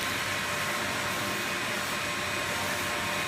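A vacuum cleaning up debris on a steampunk gear table build gives a loud, steady whooshing drone that holds unchanged from start to finish, with no other sounds over it.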